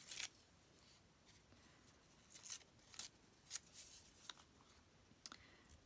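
Paper is torn by hand for a layered card in short, quiet, close-up rips, several separate bursts scattered over a near-silent background.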